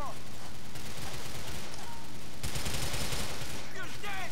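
Dense gunfire from the video game Grand Theft Auto IV crackles almost constantly in loud, close volleys, with several sharper bursts and short pauses, and brief voice fragments toward the end.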